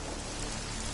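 Steady, dense rain falls in the video game Deus Ex: Mankind Divided, a continuous full hiss without breaks or voices.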